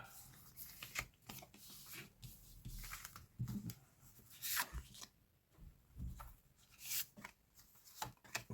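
Five tarot cards are drawn and handled, giving soft papery slides, rubs and flicks in irregular bursts, faint and close, with no speech.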